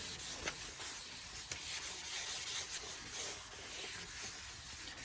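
Steady wet sanding of a Suzuki Swift's plastic headlight lens with 3000-grit sandpaper on a small block, a continuous soft rubbing hiss with gentle back-and-forth strokes, close up and alone.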